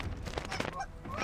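Canada geese honk in a brief nasal chorus, several overlapping calls at moderate distance during early-season North Dakota waterfowl hunting, against faint outdoor background noise.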